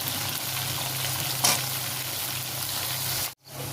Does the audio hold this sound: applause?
no